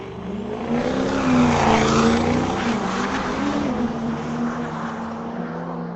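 Diesel pickup trucks, a Ford F250 and a 2015 Chevy Duramax, roar down a drag strip at a raceway diesel day, a loud sustained engine drone with shifting pitch, steady and near throughout.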